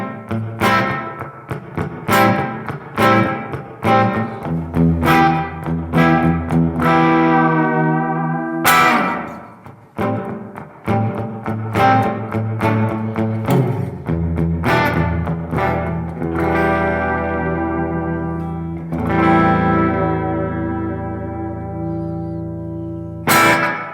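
Electric guitar runs through a Fender Tone Master Pro reverb with added pre-delay, struck chords and single notes ringing out in a long, washy tail that fills the gaps between plucks.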